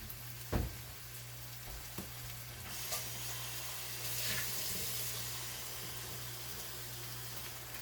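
Hot water runs steadily from a tap with a soft hiss and trickle, a low hum underneath and a few clinks near the start.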